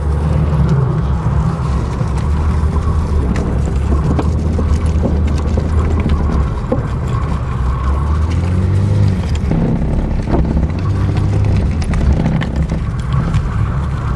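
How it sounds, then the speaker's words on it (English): A car drives laps around a residential cul-de-sac, its steady engine rumble and tyre noise loud and continuous from start to finish, no voices heard. "So we're just driving around in the cul-de-sac."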